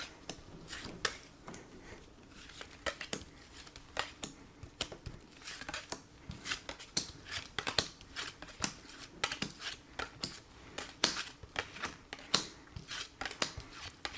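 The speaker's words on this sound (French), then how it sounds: "Alors, on va prendre nos 15 cartes." Oracle cards are shuffled and handled, then laid out one by one in a spread, giving quiet, irregular papery flicks, slides and soft taps close by, with no talking over them.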